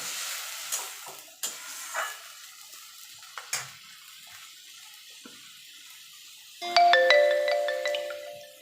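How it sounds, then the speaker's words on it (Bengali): Ginger, garlic, green and dried chili paste hits a hot pan and is stirred, with close scraping and bursts of sizzle for several seconds before a brighter, louder watery splash near the end. "এবার দিয়ে দেবো আদা রসুন কাঁচা লঙ্কা শুকনো লঙ্কা একসঙ্গে যে পেস্ট করে রেখেছিলাম"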